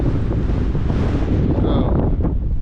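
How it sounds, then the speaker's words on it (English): Strong, gusty wind roaring over the microphone outdoors around a tree during a Starlink dish installation, a loud continuous rushing blast with no speech. "That wind is ripping."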